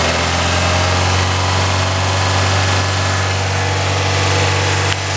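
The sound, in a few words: car engine revving while bleeding the heating system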